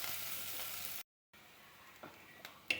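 Chopped onion, ginger and slit green chillies frying in a pan give a soft, steady sizzle. The sound cuts out briefly, then resumes with a few light stirring clicks.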